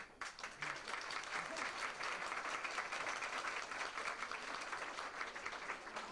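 Sustained audience applause at a community gathering in Herstal, honouring a woman who made handicrafts, a dense steady wash of many hands clapping for about six seconds, fairly distant and even.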